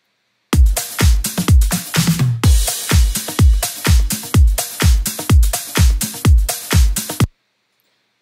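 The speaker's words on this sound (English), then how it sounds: "very typical beat for the funky house style" A funky house drum beat plays alone: punchy kicks and snappy hits in a steady, driving four-on-the-floor rhythm, loud and clear, stopping abruptly near the end.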